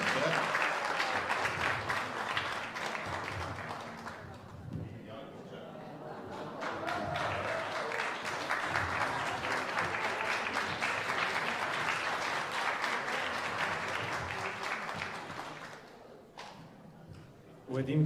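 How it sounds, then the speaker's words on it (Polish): Audience applause at a Kashubian-language recitation contest in Chmielno, a dense sustained clapping from a hall crowd that runs loud for most of the stretch, dips briefly, then swells again before fading near the end. "Wielki brawa!"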